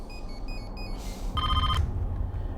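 A telephone rings unanswered in a royal palace security office in Nepal, with short electronic ring bursts standing out over a steady low background rumble, at moderate level and with no talking.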